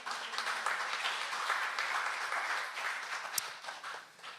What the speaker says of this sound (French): On peut l'acclamer.